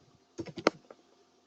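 A short, close burst of about five clicky key presses on a computer keyboard while HTML code is typed, followed by quiet.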